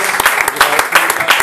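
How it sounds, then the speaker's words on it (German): A live concert audience claps for a duo on Isla de la Gomera in the Canary Islands. The clapping is short and fairly sparse, with uneven hand claps at close range. "Ein Applaus für euch"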